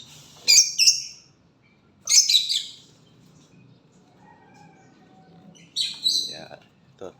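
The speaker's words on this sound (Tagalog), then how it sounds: "May mga bird dito may ingay kay Ma'am Bros." Birds squawk and chirp in three loud, bright bursts spaced a few seconds apart, with quieter background noise between them.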